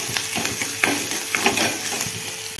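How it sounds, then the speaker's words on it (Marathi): Ginger, garlic and chili paste frying in a pan for a spicy matki curry, with a steady sizzle broken by occasional stirring scrapes, close and moderately loud, no voices. "त्याच्यामध्ये अद्रक, लसूण आणि मिरची याची पेस्ट टाकून घेते मी। हे चांगलं फ्राय होऊन निघतं।"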